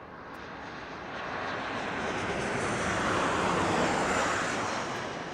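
A United Airlines Boeing 777 airliner, flight UAL 2542, heard from an airport spotting position at Las Vegas Harry Reid International, a broad engine roar that builds and stays loud, then eases slightly.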